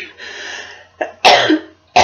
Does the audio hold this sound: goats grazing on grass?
no